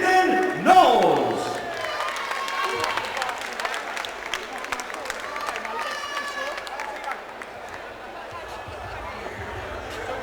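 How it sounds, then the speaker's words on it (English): Crowd at an MMA fight event applauds and cheers the runner-up, with scattered clapping and chatter filling the hall under an announcer's voice over a loudspeaker. "And ladies and gentlemen, a big round of applause to your runner-up, Lyndon Knowles."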